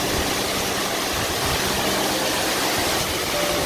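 The 55-metre Muju waterfall in Gapyeong, Gyeonggi-do pours in a loud, continuous broadband roar, dense and unbroken from start to finish, with no voices.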